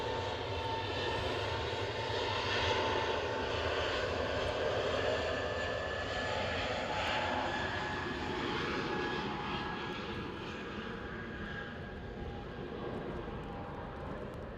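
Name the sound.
EasyJet passenger jet taxiing at Edinburgh airport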